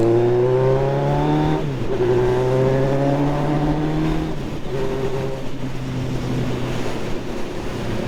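A Suzuki GSX 1200 Café Racer motorcycle pulls away with loud, close engine revving, its pitch climbing, dropping at each gear change, then settling into a steady drone.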